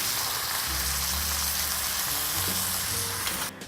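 Fajita steak coated in fajita mix sizzles and fries steadily in a hot pan, a dense continuous crackle with low clatter underneath, close and loud with no talking.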